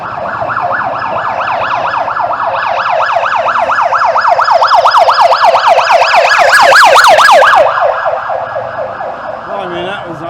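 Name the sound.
ambulance siren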